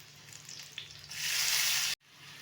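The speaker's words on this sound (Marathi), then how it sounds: "आता याच्यात आपण भिजवलेली चण्याची डाळ आहे ती घालूया" Soaked chana dal hits hot tempering oil for a spring onion stir-fry, and the sizzle swells loud and steady before abruptly cutting off, then resumes softer. No one speaks.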